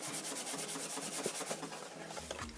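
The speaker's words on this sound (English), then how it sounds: "you fold that piece over and give it a good rub." A folded paper box piece rubbed firmly to set the glue, a close, steady run of quick scratchy back-and-forth strokes, loud and rhythmic, with no talking.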